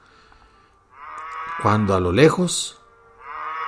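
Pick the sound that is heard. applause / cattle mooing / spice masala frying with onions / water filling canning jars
cattle mooing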